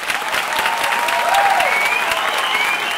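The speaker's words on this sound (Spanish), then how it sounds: "Sara, vas a recibir un fuerte y cariñoso aplauso." Warm audience applause at a magic event for a performer, steady dense clapping that swells slightly midway, with a faint tonal whistle-like sound riding over the crowd.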